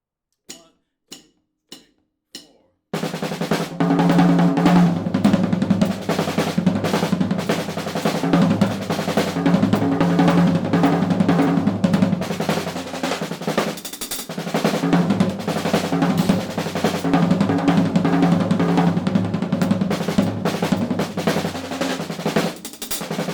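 A few sharp stick clicks count in, then a dense, fast drum fill rolls on continuously, loud and busy with cymbal wash throughout.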